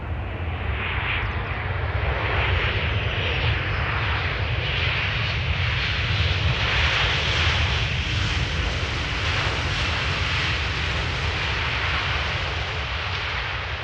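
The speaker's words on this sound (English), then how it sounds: "So 737 from KLM arriving from Paris Charles de Gaulle. Smoky touchdown of the main landing gear." A KLM Boeing 737 arriving from Paris Charles de Gaulle lands on runway 18R Polderbaan at Amsterdam Schiphol, its jet engines giving a loud, continuous roar with a broad rushing hiss that holds steady throughout; no talking.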